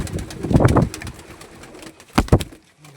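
Pigeons kept in a loft in Kashipur coo at night in soft, throaty bursts, close by, with a louder pair of coos near the end before a brief lull.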